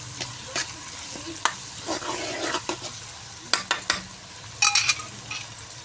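Chopped tomatoes and green chilies fry in a pan, with a light sizzle under repeated sharp clinks and scrapes of a spoon stirring against the pan, and no speech.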